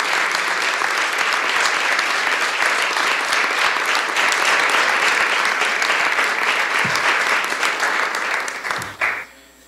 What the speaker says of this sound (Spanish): Otorguémosles otro fuerte aplauso